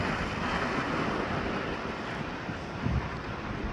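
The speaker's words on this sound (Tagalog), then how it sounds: "Papunta doon yung malaking alon." Steady roar of surf and wind at Shellharbour beach, New South Wales, Australia, a continuous wash with a brief louder surge near the end; no voices.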